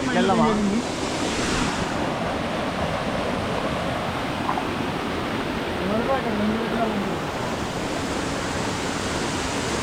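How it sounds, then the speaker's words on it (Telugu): Bogatha Waterfall roars steadily and evenly throughout, with faint voices surfacing briefly beneath the rush. "ఈరోజు ఫస్ట్ మా వాటర్ఫాల్ ఇదే."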